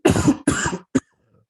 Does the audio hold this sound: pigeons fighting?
no